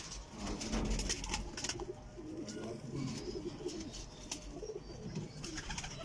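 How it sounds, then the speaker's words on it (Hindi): Pigeons cooing in soft, repeated low calls, fairly close but quiet, with faint sharper background sounds between the coos. "कबूतर दिखा रहे हैं आपको"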